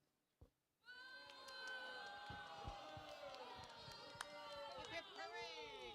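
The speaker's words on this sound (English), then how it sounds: "Dole is given 3 rousing cheers." A crowd at a reenactment at ‘Iolani Palace cheers rousingly for Dole after his speech, a long sustained chorus of voices rising after a brief pause, with a few sharp shouts standing out.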